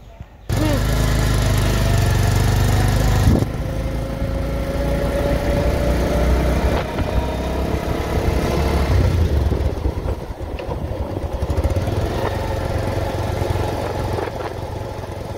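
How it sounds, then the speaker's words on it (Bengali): A motorcycle engine runs steadily through a village ride, a loud, close, continuous drone with rough mechanical texture and wind noise that never lets up. "তো ওই যেখানে মোটর সাইকেল নিয়ে যাবো।"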